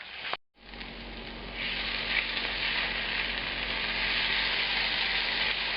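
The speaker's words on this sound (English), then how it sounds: "So let's stir this around for a couple minutes," A beef bourguignon base with paprika sizzles loudly and evenly in a pot while being stirred, a dense, continuous frying hiss after a brief gap at the start.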